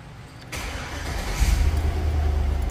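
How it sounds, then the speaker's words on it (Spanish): A Chevy Suburban engine cranks and catches, then settles into a loud, steady idle with a low rumble, heard up close with no talking. "Y listo, el carro encendió"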